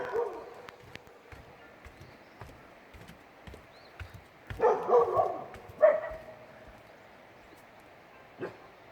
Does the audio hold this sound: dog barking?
yes